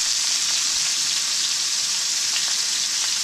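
Onions sautéing in a pan, a loud, dense, continuous sizzle up close with a few soft stirring scrapes underneath.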